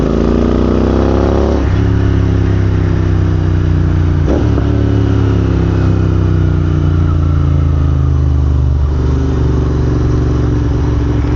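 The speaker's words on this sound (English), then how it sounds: "Much too loud, this exhaust." A loud, steady Royal Enfield INT650 motorcycle exhaust, too loud with its silencers removed, drones close by on a ride in -2 degree cold, its deep rumble shifting pitch a few times as the engine revs up and settles.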